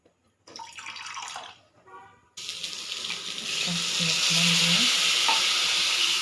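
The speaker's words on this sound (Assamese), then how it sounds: "এতিয়া মই দিম আলুখিনি ফ্ৰাই কৰিম" Potatoes fry in a home kitchen pan: after some clattering and brief stirring, a loud, continuous sizzle takes over and stays strong to the end, with occasional scraping against the pan.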